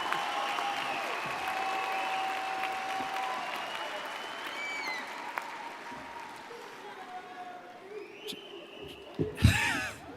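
At a university spring commencement, a large crowd of graduating health sciences candidates cheers and claps in a broad, sustained wash that gradually thins out, followed by a short burst of louder noise at the end.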